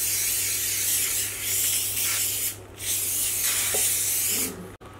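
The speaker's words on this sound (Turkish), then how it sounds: "İsterseniz şöyle sprey yağ kullanarak yağlayabilirsiniz." Cooking oil spray misted into a tart pan, a close steady hiss in a few bursts with short pauses between them, and no talking.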